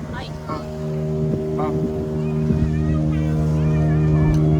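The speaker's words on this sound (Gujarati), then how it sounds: "જો આપણી બોટ હાલવા મળી છે અને આપણે જઈએ છીએ અંદર બીચમાં" A motorboat on a dolphin-watching trip heads toward the beach, its engine a steady low droning hum that grows slightly louder, with people chatting nearby over it.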